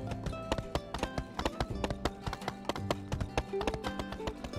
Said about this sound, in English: I love this horse, it's so pretty.